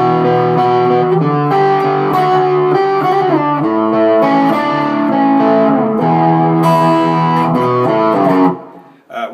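An electric guitar with heavy distortion and effects plays the opening four bars of a piece, a loud, steady sequence of ringing chords and melody that runs for about nine seconds and then cuts off abruptly.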